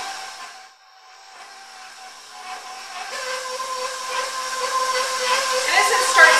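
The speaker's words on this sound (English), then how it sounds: "we have all of our butter in our mixer, and we're just gonna turn that on low" An electric stand mixer running on low while mixing butter, a steady whirring motor hum that grows gradually louder and brighter over several seconds.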